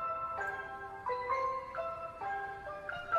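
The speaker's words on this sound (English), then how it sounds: "That's an ice cream truck. It's like an actual melody." A tinkling electronic Norwegian ice cream truck jingle plays a simple melody of bright bell-like notes, moderately faint, with no talking over it.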